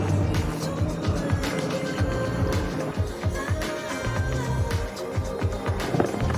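An electric skateboard rolls fast along Boulder Highway, with steady wheel roar and wind rumble and a rhythmic thumping over road seams, and a voice talking faintly over it.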